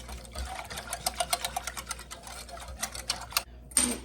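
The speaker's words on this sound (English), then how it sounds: "I'm just gonna whisk this up real good." A whisk beating sugar-free pudding mix into skim milk in a bowl, a fast run of quiet rhythmic clicks and taps, with a brief louder scrape near the end.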